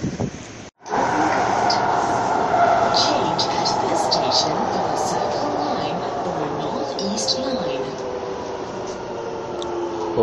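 Singapore MRT subway train running, a steady loud rumble and rushing hiss from inside the carriage with a rising whine of the motors, continuous for several seconds after a brief dropout at the start.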